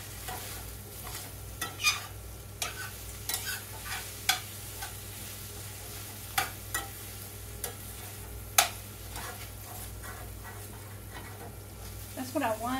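Food browning in a pan, with a constant sizzle under repeated scraping stirs at an unhurried pace. The sound is fairly quiet, and a voice comes in briefly near the end.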